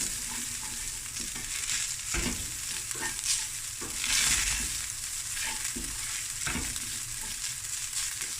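Rice fries in oil flavored with nigella seeds and roasted seaweed, giving a steady, dense sizzle with scattered scraping stirs throughout, close up and with no talking.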